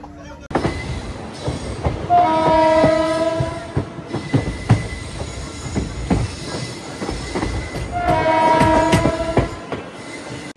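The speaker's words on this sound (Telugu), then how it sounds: "వచ్చింది, ఆగింది, బయలుదేరింది బండి" A sleeper class passenger train pulls out of Meerut City Junction, wheels squealing loudly in sustained bursts over rolling rail clatter and rhythmic clicks, with high metallic screeches swelling twice as the carriages gather speed.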